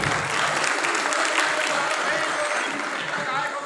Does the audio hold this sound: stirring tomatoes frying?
no